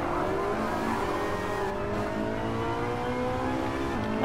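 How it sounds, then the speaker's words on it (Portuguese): A Ferrari Enzo roars in the GTA 5 video game, a loud, sustained engine note that climbs steadily in pitch as it accelerates, with no pauses. "Olha o ronco do bicho."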